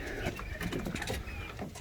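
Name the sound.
birds in coop at bedtime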